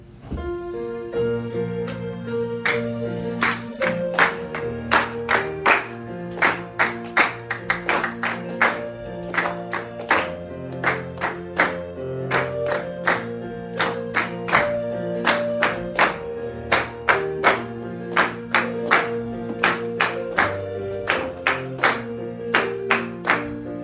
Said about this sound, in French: Nous allons applaudir tous